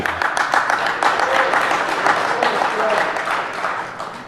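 Audience applause at the DEF CON 20 DC Recognize awards, a dense, steady patter of many hands clapping throughout, with speech-like tones threaded through the crowd noise.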